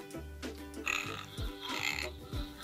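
A recorded pig oinking in a guess-the-animal-sounds game: a rapid run of several grunting oinks and squeals in close succession, loud and near, with no clear talk.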